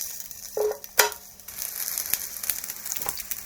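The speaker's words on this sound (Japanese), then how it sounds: "じゃがいもを焼きます" Thinly sliced potatoes frying in a tablespoon of oil in a pan over medium heat for Korean dakgalbi, a soft steady sizzle broken by a couple of sharp clinks and crackles close by.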